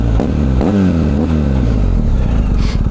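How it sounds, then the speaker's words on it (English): A BMW R1250GS motorcycle fitted with an Akrapovic exhaust revs nearby, its engine note climbing and falling in a few throttle blips before settling into a steady, throbbing idle. "this bike sounds absolutely awesome with this Akrapovic exhaust"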